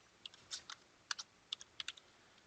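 Sparse keystrokes on a computer keyboard while entering a WorldEdit command in Minecraft, a dozen or so light clicks in small irregular bursts, close and quiet with no talk.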